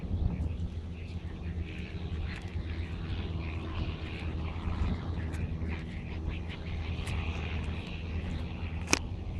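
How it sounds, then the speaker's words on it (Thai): A steady low engine drone of a boat on the water, continuous and moderately loud, with faint background activity and a brief high whine near the end. "เราได้ยินเสียงเรือใกล้เข้ามา"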